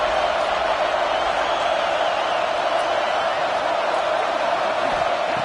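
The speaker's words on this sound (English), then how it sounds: "the crowd really making some noise now, trying to help out this defense to get this stop near the goal line" Football stadium crowd roaring steadily near the goal line during a defensive stand, a dense, loud, continuous wall of noise with faint whoops rising throughout.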